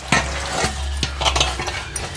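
Dough for vodappalu is mixed by hand in a bowl, giving close, sticky squelching and slapping strokes in an uneven rhythm, with no talking.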